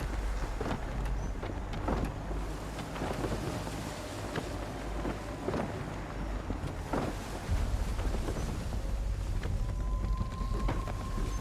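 A sailing ship running under full sail through swift current in Assassin's Creed III, with steady wind rush and water wash over low creaks and scattered knocks of rigging, sustained and fairly loud.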